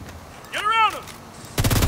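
Gunfire from a weapon in the video game Division 2, a short burst of loud shots near the end after a brief swooping electronic tone, with no talk over it.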